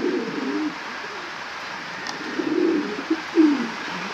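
Racing pigeons coo in low, soft murmuring bursts, a brief call near the start and several more toward the end, fairly close over a quiet background.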